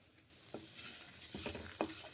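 Ginger and green chilies fry in hot oil, a quiet sizzle with a few stirring scrapes and clinks of a spoon against the pan.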